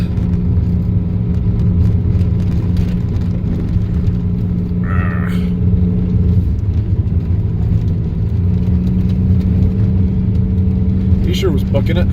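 A Pontiac Fiero's engine drones steadily as the car climbs the hill on Virginia Canyon Road, a close, sustained low rumble with faint road noise and a brief higher whine partway through.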